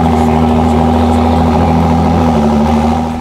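A 2018 Ford GT with its 3.5-liter EcoBoost twin-turbo V6 running steadily at a close, loud, even idle hum for a few seconds, with no voices.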